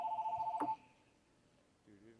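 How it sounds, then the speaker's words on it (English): A mobile phone rings indoors during a school author visit, its warbling electronic tone repeating rapidly and fairly loud for under a second before cutting off, followed by quiet room tone and a brief murmur of voices. "I can't turn my phone off, but it'll stop ringing in a minute."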